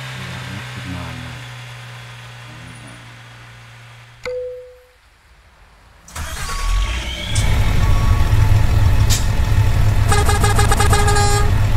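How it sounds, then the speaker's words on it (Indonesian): A Dino truck engine from a Euro Truck Simulator 1.41 mod cranks to life: a low idle hum, a brief near-silent gap, then a loud, close diesel roar, with honking, horn-like tones layered over it toward the end. "Ciri khas mesin Dino"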